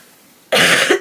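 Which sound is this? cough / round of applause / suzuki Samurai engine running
cough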